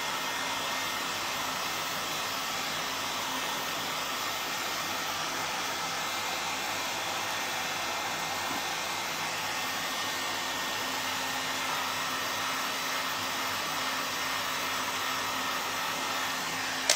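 A hair dryer blows hot air onto cracking plaster, a constant close, loud whooshing whine with a steady motor hum that holds unchanged for the whole stretch, with no voices.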